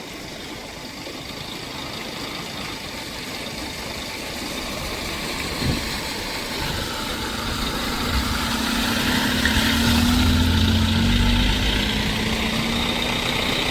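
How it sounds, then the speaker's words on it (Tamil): A car and a second vehicle drive through floodwater on a flooded village road, their engines a low, steady rumble that swells slowly as they draw closer, with a broad wash of water noise underneath. "கார் ஒன்று வருது, பின்னுக்கு ஒரு வாகனம் வருது."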